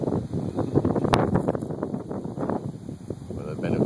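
Gusty wind buffets the microphone with a rough, continuous roar, rising and falling in strength throughout.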